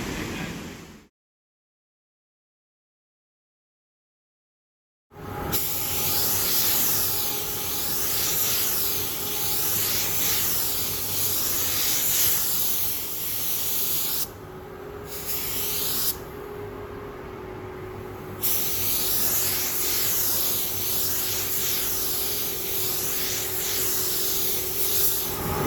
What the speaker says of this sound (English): That's why I'm going to prime it first.